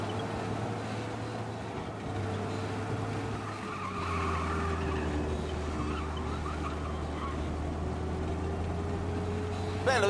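Car engine droning steadily in a video game, with a low sustained hum, brief tire skid textures and a mid-range tone, loud and continuous throughout with faint game music or chatter mixed in.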